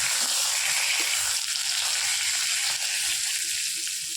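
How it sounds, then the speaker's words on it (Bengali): Pointed gourd (potol) fries in oil in a pan, a steady loud bubbling sizzle with small crackles, close up and alone. "এইভাবে করে ভেজে নিতে হবে।"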